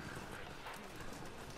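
Horse hooves clip-clopping steadily in Red Dead Redemption 2, a continuous, moderately loud patter of steps over a busy game soundscape.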